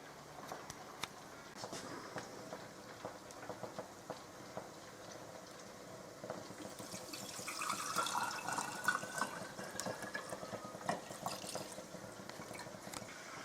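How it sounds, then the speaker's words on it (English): Liquid trickles and pours steadily through a cheesecloth-lined funnel into a jar, with the flow swelling and splashing somewhat more toward the end. "So I'm going to get this poured into the jar."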